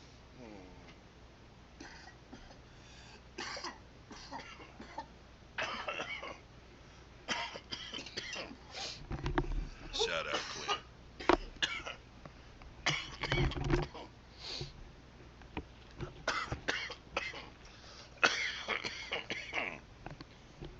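Several bursts of coughing and throat clearing scattered through the clip, mixed with a person talking nearby.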